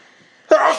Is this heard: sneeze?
yes